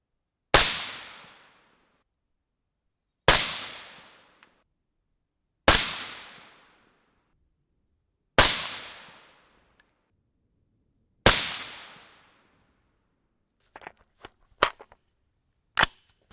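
Five sharp, loud rifle shots from a .223 loaded with CCI BR4 primers crack at regular intervals of about three seconds, each decaying quickly, followed by a few fainter clicks and handling knocks.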